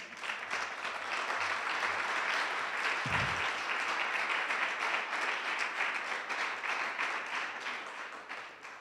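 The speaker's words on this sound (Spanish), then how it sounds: "así que os voy a dar un aplauso" An auditorium crowd applauds steadily and fairly loudly throughout at an award closing ceremony, a dense wash of clapping with a brief low thump partway through.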